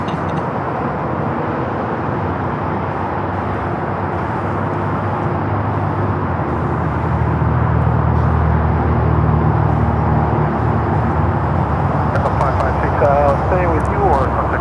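An Embraer Praetor business jet at LAX gives a steady, broad jet roar that swells slightly midway, heard at a distance with voices and radio chatter over it.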